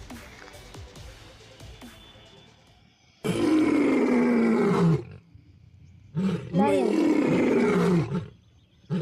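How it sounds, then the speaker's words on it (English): A lion roaring, two long loud deep roars close up, each followed by grunting, after a quieter opening stretch. "Lion,"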